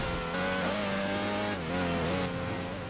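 Engine of a pink Ducati SS1000 sport bike racing in Midnight Club 3: DUB Edition Remix, a continuous droning whine that rises and dips in pitch as the bike shifts and accelerates, steady and close throughout.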